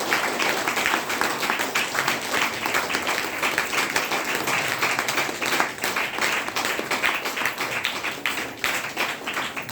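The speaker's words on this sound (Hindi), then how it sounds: "ताली मार सकते हैं?" Audience at a DXN wellness training program in Bhagwanpur clap together in dense, continuous applause that holds loud and steady throughout, with no voices over it.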